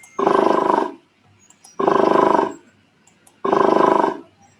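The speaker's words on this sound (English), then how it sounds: "if you see the lion's sound over here, that is actually a grunt" A lion's grunting roar from a Scratch sprite sound library plays three times, each a loud, rough, roughly one-second blast separated by brief silences.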